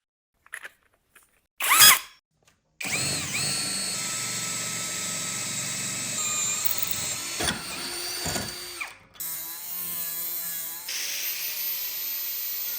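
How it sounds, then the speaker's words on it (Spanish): A 40 mm hole saw in a power drill bores a hole through the centre of a metal lid for a biomass survival stove, a loud sustained whining grind after a couple of short taps, briefly dipping before resuming. "Con una corona de 40 milímetros de diámetro, perforaremos un agujero en el centro."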